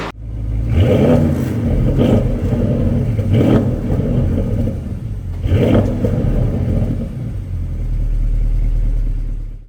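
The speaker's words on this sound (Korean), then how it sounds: "이게 세워놓은 상태에서 배기음은 어우 약해요, 약해." Porsche Panamera 4.0 Turbo idling while parked, its exhaust giving a deep steady rumble with three repeated throttle blips that swell into a throaty rev and fall back, loud and close.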